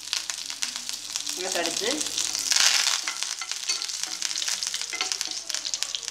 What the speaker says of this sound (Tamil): நல்லா கடுகு பொரியட்டும். கடுகு பொரியுமோ இப்போ வந்து நம்ம கருவேப்பிலை தெரிக்கும்.